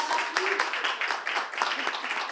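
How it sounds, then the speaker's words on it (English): Audience at a Molly Maid franchise training week applauding the new franchise owners, a short burst of close, dense clapping with some voices mixed in. "So let's give them a round of applause."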